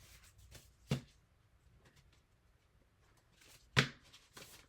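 Paper trimmed for a coffee-dyed paper bag art journal piece, heard as two sharp, brief snips or cuts spaced a few seconds apart, close and clear over quiet rustling, with no talking.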